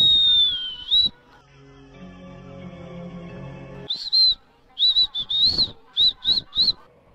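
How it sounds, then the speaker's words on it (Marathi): A person whistles a series of short, high, bird-like notes, one long sliding whistle at the start and then several quick bursts close together. Between them comes a stretch of lower tonal background sound. "हे शिट्टी वाजवणं तू कुठून शिकला"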